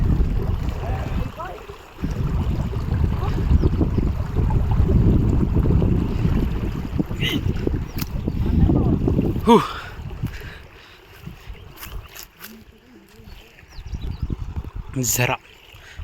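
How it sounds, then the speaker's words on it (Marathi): Flowing water from a small stream rushes steadily in the foreground, loud and broadband, with people's voices breaking in now and then and wind buffeting the microphone. "झरा चाललेला आहे."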